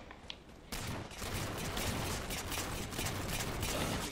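Gunfire in Halo: The Master Chief Collection: after a short quiet start, dense rapid bursts of automatic shots and fusillade crackle continuously and loudly, with no speech over them.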